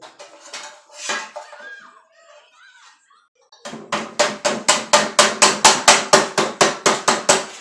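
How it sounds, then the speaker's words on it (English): A short stretch of quiet talk and clinks, then a small tack hammer taps a metal lid's edges flat against a wooden block in a steady run of about sixteen sharp, evenly spaced strikes. "my wife's little tack hammer she uses for"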